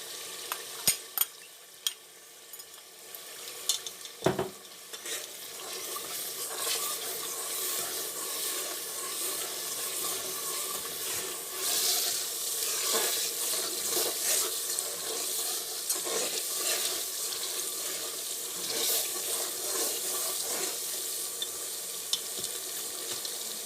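Steady frying sizzle as garlic-ginger paste cooks in a pan, a broad hiss that holds for the whole stretch, with a few sharp clinks and scrapes near the start.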